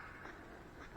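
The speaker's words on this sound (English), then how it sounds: "Oh boy, the ducks are fine." Ducks quack softly at a farm alongside geese, with a steady bed of noise and a louder burst of calls at the very end.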